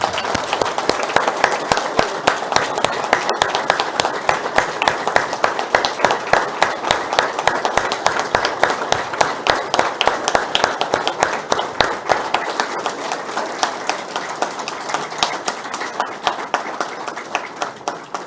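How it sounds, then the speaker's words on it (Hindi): An audience at a seminar in Jhunjhunu claps continuously for about eighteen seconds, dense rapid applause that is loud and close before thinning slightly toward the end. "1 मिनट तक कंटिन्यूस ताली हो जाएंगे"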